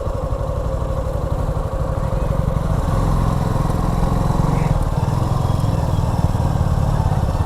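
A motorcycle engine runs close and steady as the rider looks for a parking spot at Bhuleshwar Temple on a crowded Sunday. The low, even rumble holds at the same level throughout.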